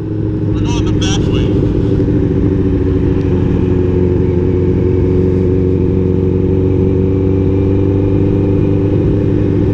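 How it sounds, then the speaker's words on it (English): A motorcycle engine runs loud and close at a steady, throbbing pitch through the whole stretch, with a brief sharp rattle near the start and no clear rise in revs. "You want to rev bomb these girls?"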